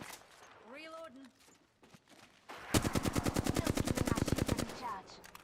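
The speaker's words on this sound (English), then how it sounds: "They're shooting at me." Rapid automatic gunfire from enemies in a video game, a loud, fast burst of evenly spaced shots lasting about two seconds, preceded by brief game sound effects and quiet background noise.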